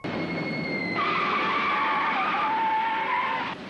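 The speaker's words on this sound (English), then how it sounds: "Did that boat just make a tire screech sound?" A boat in an animated film gives off a tire-screech sound effect: a loud, sustained squeal that shifts pitch partway through, lasting a few seconds and ending abruptly, with no talking.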